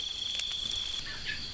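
Crickets chirp in a garden park at night: a steady, high, continuous trill with a few brief louder pulses, and no voices.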